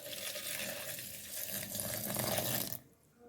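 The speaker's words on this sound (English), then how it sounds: "I add in water." Water poured into a blender jar over ehuru, crayfish and other pepper soup ingredients, a steady hissing splash that runs for close to three seconds and then cuts off.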